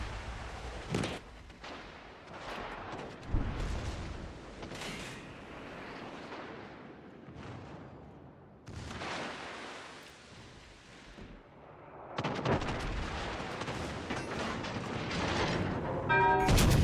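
Warship guns firing in the naval game World of Warships Legends, several heavy booming salvos with rumbling tails, spaced apart and interleaved with mechanical and ambient battle noise.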